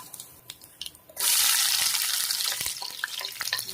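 Chana dal, mustard seeds, cumin and two dried red chillies go into plenty of hot oil, a quiet pan with a few clicks suddenly erupting into a loud, sustained sizzling hiss that slowly eases.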